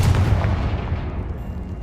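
Confringo blasting spell explosion in Hogwarts Legacy, a loud, close boom with a rumbling low tail that slowly fades.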